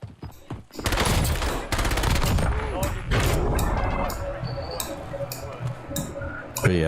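Rapid missile fire in a video game, a dense stream of crackling bursts and booms sounding continuously at close range, with a voice speaking over the barrage.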